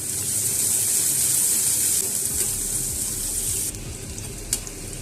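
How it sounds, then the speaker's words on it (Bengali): Chopped onions fry in hot oil in a pan, producing a loud, dense sizzle that drops to a softer level partway through, with a single sharp clink near the end and no voices. "পেঁয়াজটা গোল্ডেন ব্রাউন হওয়া পর্যন্ত আমাকে নাড়াচাড়া করতে হবে"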